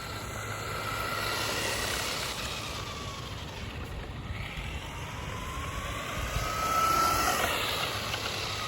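A restored 1988 Hirobo Toyota Celica GT-4 radio-controlled car runs at speed, its small electric motor giving a steady whine that rises and falls as it passes, with one high whir near the end, heard alone without talk.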